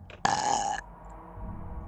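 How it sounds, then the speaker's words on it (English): A single loud, buzzy burp bursts out briefly in a Portal playthrough, a short guttural belch that stops abruptly, leaving quiet room noise behind. "burp in. Burp."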